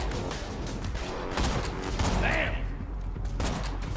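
Sniper rifle fire in the co-op shooter Borderlands 2, amid dense game combat noise: several sharp shots and bursts over a busy mix, with a voice speaking briefly.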